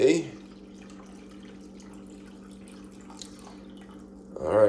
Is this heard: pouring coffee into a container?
yes